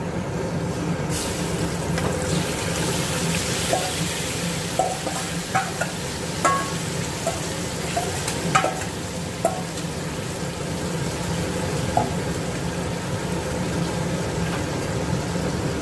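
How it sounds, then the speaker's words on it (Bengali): Chicken pieces fry in a wok after browned onions, giving a continuous sizzle with scattered scraping taps of a spatula over a low background hum. "পেঁয়াজ ভাজা হয়ে যাওয়ার পর এবার আস্তে আস্তে চিকেনগুলো কড়াইতে ছেড়ে দিচ্ছি"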